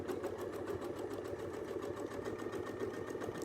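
Sewing machine running steadily at close range as it stitches along a Westalee ruler template, a continuous even whir with rapid needle pulses and no pauses.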